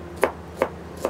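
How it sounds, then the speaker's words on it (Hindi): An onion being finely chopped with a knife on a board for tandoori pizza, three sharp, evenly spaced close knife strikes about 0.4 seconds apart. "फाइन चॉप कर लेना प्याज।"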